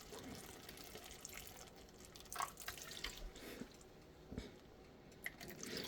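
Lemon juice, about a quarter cup, is poured into a bowl, heard as a soft trickle and light splashes with a few drips near the end, quiet and close.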